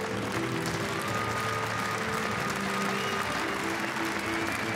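A crowd applauds the 2013 Swiss Open badminton men's champion, a steady dense wash of clapping that holds evenly throughout.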